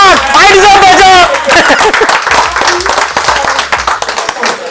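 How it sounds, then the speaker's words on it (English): An audience claps at a motivational talk, with brief applause running under a speaker's voice throughout. "That is not a wow round of applause."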